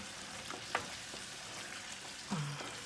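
Quiet sizzling in a pan with a couple of soft utensil scrapes and clinks as moussaka vegetables are stirred.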